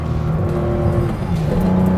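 Porsche 911 ST engine revving hard while accelerating uphill on uneven ground, a loud, continuous close-up drone with harmonic tones that dip briefly around a gear change and then climb again.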